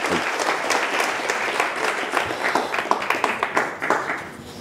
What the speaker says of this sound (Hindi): मैडम के लिए तालियां बजा दीजिए